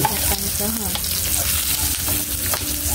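Onions sizzle and crackle steadily in a hot pan, stirred now and then with a utensil, with music or background sound also audible throughout.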